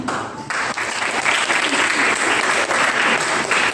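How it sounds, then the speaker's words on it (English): A big round of applause from a school audience at an inter-section debate contest bursts in after a brief pause, then holds as dense, loud, steady clapping to the end. "give a big round of applause for section C"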